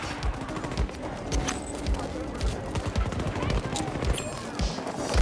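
Gunfire in Battlefield 2042, a dense run of rapid shots and impacts rattling steadily throughout, with a player talking over the top.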